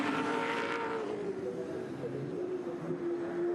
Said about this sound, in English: This is the leading group of cars coming around to complete another lap.